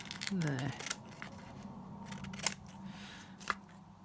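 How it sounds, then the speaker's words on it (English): Scissors snip through paper to cut it in half, a few short crisp clips and a sliding rasp spread over a few seconds, faint and close in a quiet room. "So with the paper one, I'm going to cut this in half, and I think I'm going to cut it across there"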